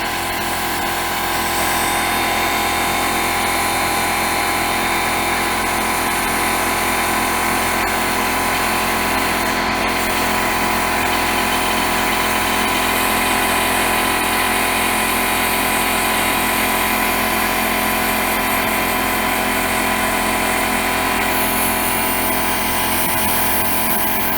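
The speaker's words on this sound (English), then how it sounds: "There goes the compressor." An air compressor drones continuously for the whole stretch during glass etching, a loud, steady mechanical hum with a high whining edge and no pauses.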